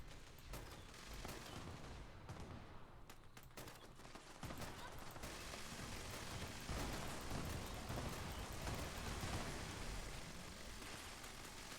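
An auto grenade launcher fires in the video game Fallout 76. Dense, continuous, booming fire and blasts run under occasional talk, building louder after the first few seconds.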